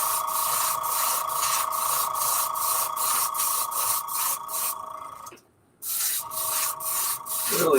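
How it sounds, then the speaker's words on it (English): An aerosol can hisses steadily as yellow paint is sprayed onto a fishing bait, a close, continuous spray with one short pause before resuming, no talking. "Now we'll spray it with some yellow."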